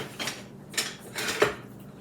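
Metal cutlery clinks in a few light, quick knocks as a spoon is picked up in a kitchen while making a roast beef hot shot casserole, close and sparse with no talking.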